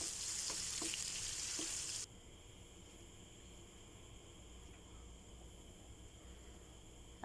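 Onion hits hot oil in a pan for ginisang gulay and sizzles loudly for two seconds, then settles into a faint, steady low frying hiss.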